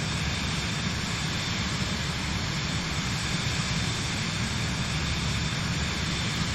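Airplane engine droning steadily in flight in Microsoft Flight Simulator, a constant broadband roar at moderate level with no variation and no voices.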